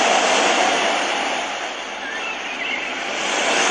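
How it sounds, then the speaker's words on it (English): Ocean setting on a HoMedics white noise sleep machine: a dense, loud wash of surf-like noise that swells, dips in the middle, then builds again like a rolling wave. "This is our favorite one, Ocean."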